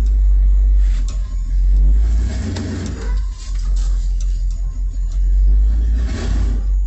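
Loud, deep rumble of a 1986 Ford F350 truck engine driving down the road, with a heavy low drone, rising and easing revs and rattling clatter, recorded close from inside the cab.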